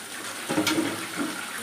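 Water is poured into a pan of potato curry, giving a steady close hiss and splash with a slight surge partway through.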